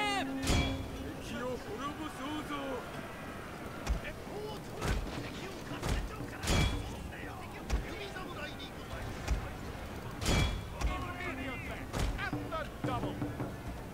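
European cannons fire in a Japanese strategy game set in the era of matchlock units, with repeated sharp booming thuds spaced every second or two under steady commentary and battle noise.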